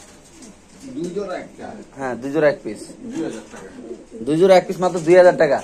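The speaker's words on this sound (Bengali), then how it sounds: "ওই যে পিছনে একটা কবুতর আছে রেসের কবুতর" Racing pigeons coo in the background at a pigeon sale, soft repeated calls heard beneath someone talking close by.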